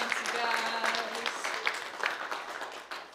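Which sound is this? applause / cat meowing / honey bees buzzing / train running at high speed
applause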